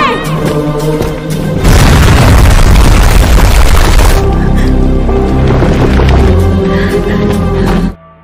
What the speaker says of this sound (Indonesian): bahan peledak yang sudah dipasang telah diaktifkan